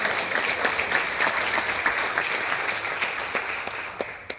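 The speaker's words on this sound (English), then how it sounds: "Can we just give her a round of applause?" An audience at a Manchester mill meeting applauds warmly, a dense, steady clatter of clapping that fades slightly toward the end, with no talk over it.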